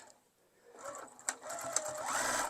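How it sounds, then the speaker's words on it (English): A sewing machine bastes along the edge of a fabric tote bag, starting quietly and building into a fast, close mechanical stitching whir that runs in short bursts. "I'm just going to baste this right along the edge"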